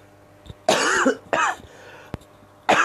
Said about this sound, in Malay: batuk sedikit minta maaf